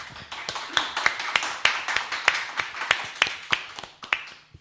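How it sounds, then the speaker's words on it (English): A small group claps a round of applause in a radio studio, a steady run of sharp, close handclaps at an even rhythm, with no talking over it. "Let's give him a round of applause."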